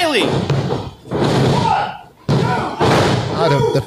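Heavy thuds of a wrestler's elbow strikes landing in a free wrestling match, two loud booming impacts echoing through the venue with crowd noise and commentary voices over them.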